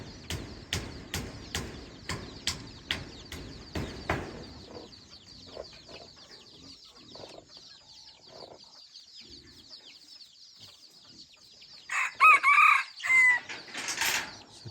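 A wild junglefowl rooster gives a run of sharp rhythmic clucks, then after a quiet stretch lets out a loud crow, all nearby in an outdoor setting with no talking.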